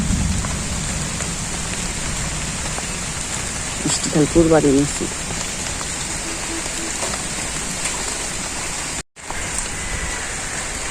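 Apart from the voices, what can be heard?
rain falling during Padma puja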